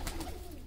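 A pigeon coos briefly in a loft, a short low throaty burble, close and fairly loud.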